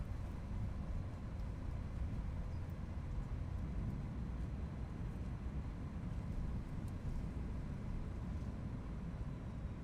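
Toliss A319 airliner in X-Plane 11 with thrust reversers deployed during the landing rollout, a steady, loud, broadband engine roar that holds at an even level throughout with no talking.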